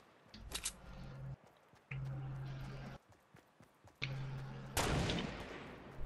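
Fortnite gunfire comes as several separate bursts of shots, each a second or so long, broken by short gaps and set against game ambience, with one louder, sharper blast near the end.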